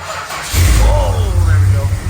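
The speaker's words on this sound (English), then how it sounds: "Let's go see if it'll fire up." A big block Mopar V8 running on a full 12-volt ballast bypass cranks and fires, catching into a loud, steady rumbling idle about half a second in and holding close to the microphone.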